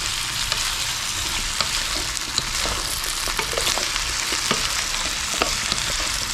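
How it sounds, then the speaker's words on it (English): Stir-fried vegetables sizzle steadily in a hot pan with frying hiss throughout, while clicks and scrapes of stirring come through close up; no one talks. "Now I'll go ahead and give it a stir,"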